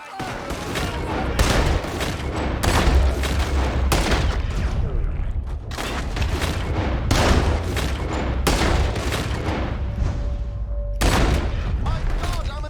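Rapid volleys of gunfire crack through a Red Dead Redemption 2 shootout, loud bursts repeating in clusters with brief pauses, heavy and close, with shouting voices mixed in.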